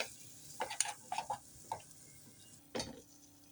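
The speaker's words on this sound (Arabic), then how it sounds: "نخلط هاد الزبده مع النشا حتى تذوب لي مليح" Butter and starch being stirred together in a pan, heard as a quiet series of scraping and clinking utensil strokes in irregular bursts, with a slightly louder scrape near the end and no talking.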